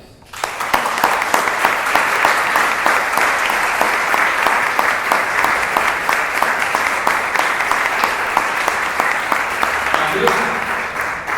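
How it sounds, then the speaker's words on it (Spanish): An audience at a university conference closing in Argentina breaks into sustained applause, dense and even clapping that carries for over ten seconds. "Pedimos un aplauso para ellos."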